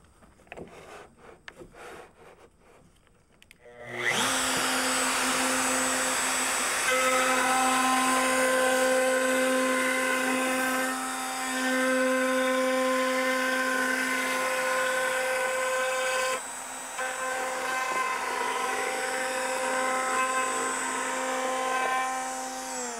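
A router cuts a beading line along a pine bookshelf, starting after a few soft knocks and then whining loudly and steadily with a high pitched tone for nearly twenty seconds, with a brief dip midway.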